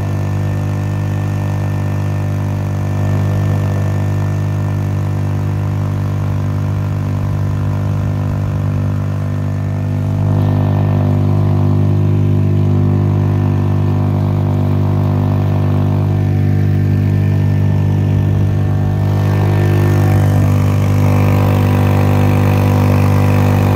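A Honda 2.3 hp outboard motor drives a Kolibri 3300 canoe on the Danube, running with a steady, loud, close droning hum for the whole stretch and no talking.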